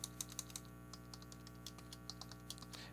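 Faint typing on a computer keyboard: a quick, irregular patter of light key clicks continues throughout against a steady low background hum.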